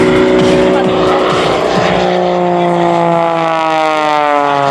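An aerobatic airplane at an air show pulls high G's, its engine roaring loud and continuous with a steadily shifting drone that slides downward in pitch as it passes.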